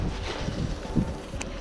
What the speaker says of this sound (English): it doesn't really help that it's pretty windy too